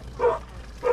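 A dog gives two short, close barks about half a second apart, each with a slightly whining, yelping tone.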